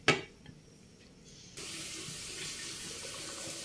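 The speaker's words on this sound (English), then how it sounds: "So we are adding another stock from the meat we boiled earlier" After a brief clank at the start, meat stock pours in a steady, continuous stream into a pot of vegetable soup, heard close and clear with no talking.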